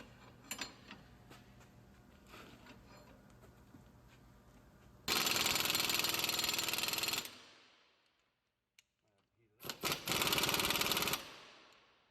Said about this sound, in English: I'm going to use an impact gun, and we'll get those off.